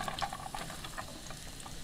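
Garlic sizzling in a hot pan, a soft continuous crackle with scattered pops and stirring scrapes, fairly quiet and close, with no talking.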